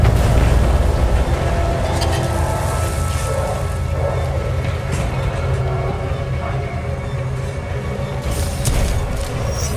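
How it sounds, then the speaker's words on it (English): A series of explosions in the Titanfall 2 video game, where a manipulator arm is weakened, rumbles as a loud, continuous low roar with scattered booms and bursts throughout, with no speech over it. "Series of explosions just weakened the manipulator arm."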